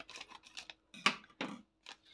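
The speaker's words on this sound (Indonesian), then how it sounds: "Bunda gunting agar-agarnya." Scissors snip open a packet of agar-agar powder in a home kitchen, a run of short crisp cuts and crinkles at close range, uneven in rhythm, with no voice.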